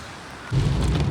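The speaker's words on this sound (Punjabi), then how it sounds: "ਮੀਂਹ ਫੇਰ ਤੇਜ਼ ਹੋ ਗਿਆ" Rain turns heavy over a road in the Hoshiarpur–Chintpurni hills in Punjab, a steady loud wash of downpour that swells suddenly halfway through and then holds at a dense, close roar.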